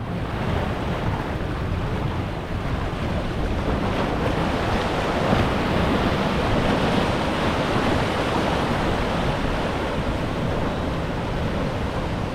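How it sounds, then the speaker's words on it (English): Ocean waves crash and surge against rocks at Sorrento Ocean Beach, a continuous loud roar of surf and churning white water with steady wind noise on the microphone, no voices. "See a whirlpool effect as the wave takes place."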